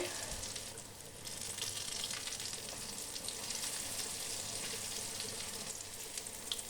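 Eggplant slices fry in oil in a pan as they are turned, a continuous soft sizzle and hiss held at an even, fairly quiet level throughout.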